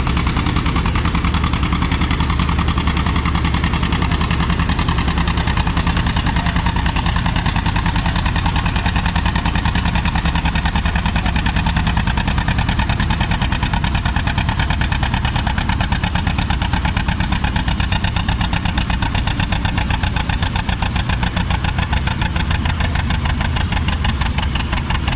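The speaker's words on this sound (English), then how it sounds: "Next on the sled is a John Deere 820." A John Deere 820 vintage tractor pulls a sled in the 9,000-pound, 4 mph class, its engine a loud, steady, heavy knocking roar sustained throughout with no pause.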